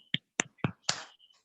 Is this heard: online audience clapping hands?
yes